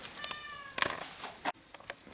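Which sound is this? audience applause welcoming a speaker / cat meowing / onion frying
cat meowing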